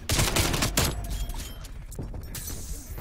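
Rapid automatic fire from an AK74U in the Call of Duty: Cold War video game, heard as loud, dense bursts of gunfire that stay prominent throughout, with mechanical clatter between the shots.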